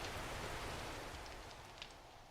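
A campfire burns in the survival game 7 Days to Die with a faint, steady crackle and hiss, close by and unbroken, with no voices.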